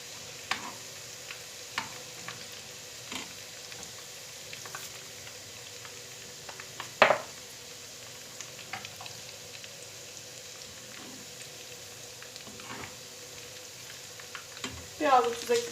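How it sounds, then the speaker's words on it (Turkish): Garlic and rosemary frying in a pan make a soft, continuous sizzle with scattered pops and a few utensil taps, louder near the end. "Biraz da böyle biberiye atıyorum. Sarımsaklarımla birlikte kavuruyorum bunu."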